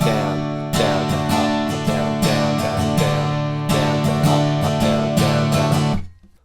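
Acoustic guitar strumming the third chorus of a song, mostly downstrokes in a driving rhythm, close and bright with no voice, ending in a brief ringing fade.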